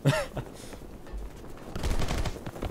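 Gunfire from the side-scrolling action game Rocketbirds: Hardboiled Chicken sounds in sharp, loud bursts of shots over game noise.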